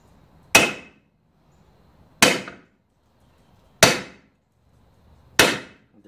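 Four evenly spaced hammer taps on metal during a Stihl 028 chainsaw restoration, each a sharp ringing clank that fades quickly, with quiet gaps between strikes.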